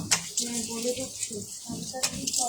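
Water runs from a tap as a beauty product is washed off the face, a soft splashing flow with a couple of sharper splashes, while someone talks over it.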